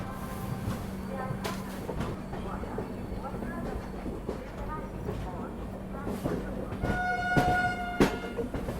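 Tirukkural Express, Delhi to Kanyakumari, arriving at Agra Cantt station behind a WAP7 electric locomotive, with rumbling wheels and rail clatter, sharp tonal horn blasts near the end, and someone talking over it.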